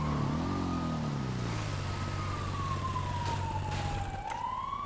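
A police car siren in a video game wails continuously and loudly throughout, its tone sliding slowly down and then sweeping back up near the end, over a low rumble of engine noise.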